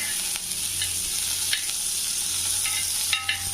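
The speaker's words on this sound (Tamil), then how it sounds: "தோசைக்கல் வச்சுருக்கேன். கல் நல்லா காஞ்சிருச்சு. கொஞ்சம் பட்டர் போட்டுக்கலாம்." Butter sizzling on a well-heated dosa griddle, a steady bright frying hiss that holds throughout, with a few soft taps and scrapes rising above it.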